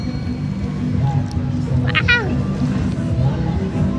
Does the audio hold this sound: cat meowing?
yes